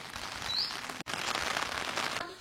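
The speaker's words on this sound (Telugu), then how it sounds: "వర్షం పడుతుంది" Rain falls steadily as a soft, even hiss of drops striking surfaces, fairly quiet and close, with a brief dropout partway through.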